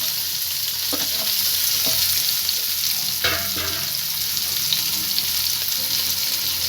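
A large chopped onion with a little salt sautés in a hot pan with a steady, loud sizzle, while a utensil scrapes and stirs a few times.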